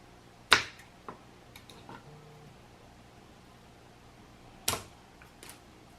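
Cutters snip through thin nickel strip for an 18650 battery pack, two sharp isolated clacks several seconds apart with a few smaller ticks between, close and fairly quiet.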